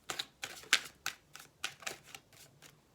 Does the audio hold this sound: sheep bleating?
no